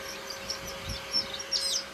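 Newly hatched desi village chicks taken from an incubator give thin, high peeps: a few scattered faint chirps over a low background hum, with no one speaking.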